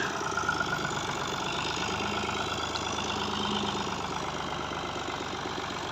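A New Holland tractor engine idles steadily throughout, a continuous low mechanical rumble with a faint knocking pulse, close and fairly loud with no voices.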